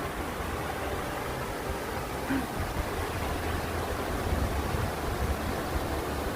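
Steady broadband rushing of flowing water from a valley stream, constant and fairly soft, with no voices.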